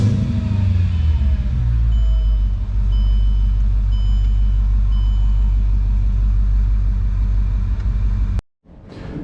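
Mercedes CLK55 AMG with a swapped supercharged M113K V8 idling with a deep, steady exhaust rumble and a slight exhaust leak, loud and close for about eight seconds before cutting off abruptly.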